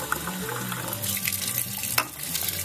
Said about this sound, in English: you can easily do that by getting some tap water in a beaker